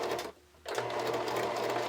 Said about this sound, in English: I just do a couple of stitches on my sewing machine, just a straight stitch